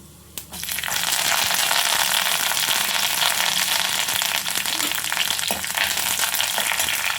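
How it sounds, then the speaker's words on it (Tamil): Mustard seeds, cumin and urad dal tempering in hot oil, a dense steady sizzle with crackling pops that flares up after a brief quiet start and holds loud and close throughout. "உளுத்தம்பருப்பு போட்டு தாளிச்சுக்கிறாங்க"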